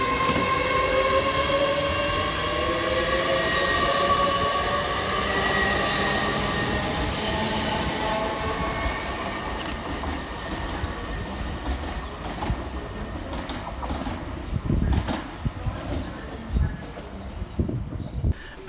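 A TransPennine Express class 802 train, unit 802-206, departs Edinburgh Haymarket station with a long rising electric whine and squealing wheels, fading and rumbling away over several seconds with clicks over the rail joints.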